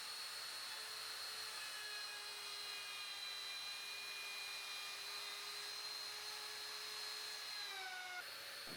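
A Makita router fitted with a 12.7 mm radius bit routes walnut, producing a continuous high-pitched whine that holds steady for several seconds and then drops away sharply near the end.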